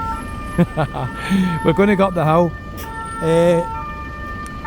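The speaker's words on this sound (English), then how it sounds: "That's an ambulance from somebody who's tried to climb up the hill here." An ambulance siren wails on a hillside street in Costa Adeje, Tenerife, fairly close and loud, while someone talks over it.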